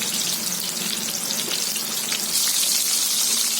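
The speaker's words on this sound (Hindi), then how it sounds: "अब इसमें हम ये कबाबों को फ्राई कर लेते हैं" Mutton reshmi seekh kebabs fry in a pan over full flame, giving a steady, loud, dense sizzle that runs unbroken and swells slightly toward the end.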